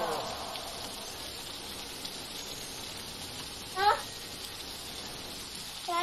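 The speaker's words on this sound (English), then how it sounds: "Oh, it's raining, by the way, in this one." Steady rain falls throughout a scene in the Carnival Killer video game, a continuous soft hiss with a couple of brief louder bursts of game sound.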